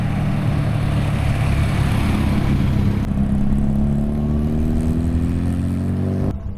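A 1960 Austin-Healey MK1 Sprite Bugeye drives by with a loud, buzzy engine note that climbs steadily as it accelerates, then cuts off sharply at the end.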